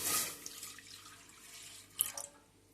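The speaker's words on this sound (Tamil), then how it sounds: "இதில் முதல்ல நாம் பாலை சேர்த்துக்கலாம்." One cup of cow's milk is poured into a heavy-bottomed pan on a stove, giving a quiet, brief splashing trickle at the start and again near the end.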